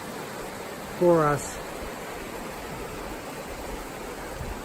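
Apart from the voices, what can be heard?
Mission Creek flowing water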